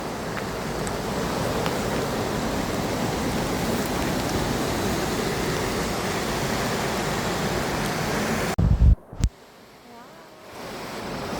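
Steady, dense rain in Iceland hisses loudly and evenly, then cuts off abruptly near the end after a couple of bumps.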